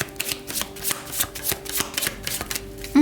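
Tarot cards being shuffled by hand, a steady run of soft papery riffles and flicks repeating close up for a few seconds, with a brief tonal bump at the very end and no talking.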